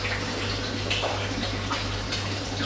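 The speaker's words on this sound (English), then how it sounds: "Let's put my air bubbler back on, just to keep this side stirred up." Pond air bubbler running in water beside a drum filter, a constant close bubbling and fizzing wash with a steady low hum beneath, unbroken throughout.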